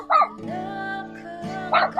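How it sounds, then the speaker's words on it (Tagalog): A dog near a house in a remote mountain barangay gives two sharp barks separated by a drawn-out whining howl, close and clear against a quiet background. "Yan, may aso."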